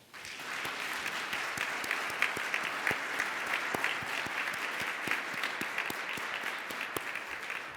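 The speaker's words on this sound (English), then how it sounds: "Please join me in a round of applause to thank all the men and women who have served our country." A graduation ceremony crowd at a career and technical college commencement claps steadily for military veterans, dense even applause that holds for nearly eight seconds with scattered sharper claps standing out.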